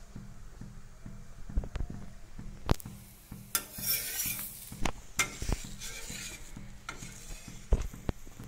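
A stuffed mooli paratha roasting on a hot griddle, with a soft steady sizzle under scattered scraping and tapping of a flat spatula against the pan, close and moderately loud, no voices.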